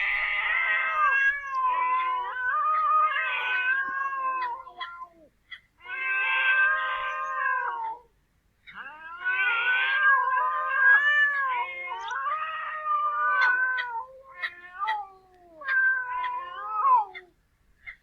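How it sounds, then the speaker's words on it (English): Cats howling and harshly screaming, long wavering yowls rising and falling in several drawn-out bursts separated by brief silences, close and loud, with no other sound around them. "It's howling merged or combined with a very harsh screaming."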